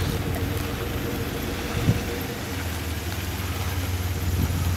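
A Toyota Surf off-roading in an Okinawa clay pit idles with its exhaust pipe packed with mud, producing a low, steady, muffled rumble close by with a faint knock partway through.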